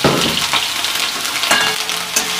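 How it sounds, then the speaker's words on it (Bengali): Vegetables frying in hot oil with panch phoron, a loud close crackling sizzle that runs continuously, with a few stirring scrapes rising out of it and no talking. "একটু নেড়ে দেবেন।"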